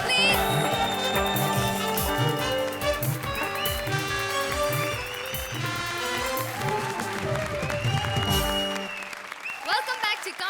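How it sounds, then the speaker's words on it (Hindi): Studio audience applause and cheering on a TV comedy show fill the scene, mixed with loud music playing throughout before it cuts off. "जोरदार तालियां"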